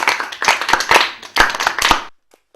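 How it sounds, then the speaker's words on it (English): Students in a grammar classroom clap in a short, uneven burst of hand claps, loud and close, lasting about two seconds before stopping abruptly. "Please clap for the boys."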